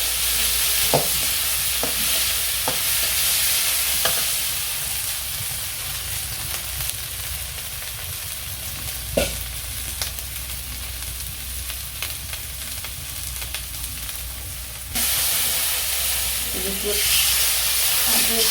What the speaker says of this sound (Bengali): একটু কষিয়ে নিই ভালো করে ভালো করে কষানো গেছে